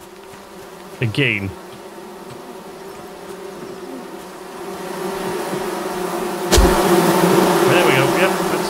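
Bees buzzing in the game Among Trees, a steady droning hum that swells louder near the end, with a short bit of talk early on and a sharp clatter partway through.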